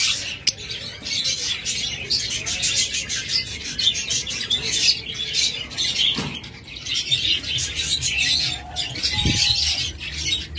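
Caged violet opaline pet birds in pairs call continuously, with dense close chirps and tweets, occasional wing flutters and a low thud partway through.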